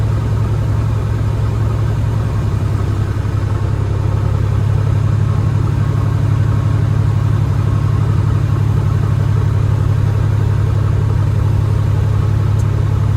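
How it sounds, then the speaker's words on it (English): A truck's diesel engine is held at raised revs in the cab to build air brake pressure, a loud steady rumbling drone with a constant low hum that barely changes throughout. "So you're gonna give it gas and don't pass 15 RPM and keep the gas after the governor release."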